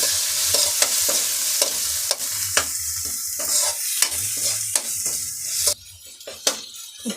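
Tomatoes sizzling in a pan for egg keema, stirred steadily with a utensil that scrapes and taps the pan in a regular rhythm over a continuous close fry.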